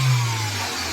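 Honda Civic VTEC engine catching after an engine wash, a brief close burst of revving that settles into a steady running hum, lasting under a second.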